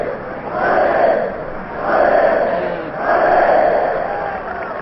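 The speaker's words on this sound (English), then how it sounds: "Here's a Notre Dame cheer." A 1938 college football crowd at Notre Dame against Illinois roars in a rhythmic cheer, three swelling waves of massed voices from a distant stadium, muffled and rising and falling in a regular chant.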